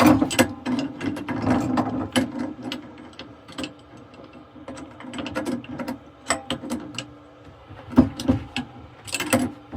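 A screw chuck is taken off a wood lathe while turning a walnut bowl, making a close, irregular run of metallic ratcheting clicks and clatters with short pauses throughout and no talking.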